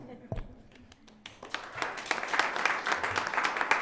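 Applause from the audience at a Basalt town council meeting, beginning with a few scattered claps and swelling into steady, moderately close clapping that lasts several seconds, with a voice briefly heard at the start.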